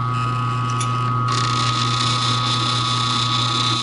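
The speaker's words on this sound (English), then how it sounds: "you can hear it kind of squeal in there as it's lapping away that material" A titanium pivot hole being lapped with lapping compound gives a steady, continuous grinding hum with a thin, sustained squealing whine running through it, close and fairly loud.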